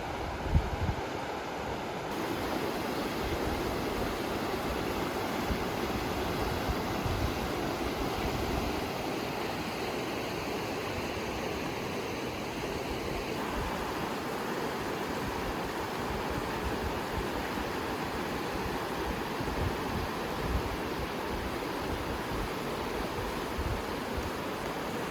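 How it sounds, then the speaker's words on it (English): A river in Mt. Baker National Forest rushes past a hotel deck as a steady, broad wash of flowing water, constant and fairly loud, with no voices. "right across the way is this gorgeous river"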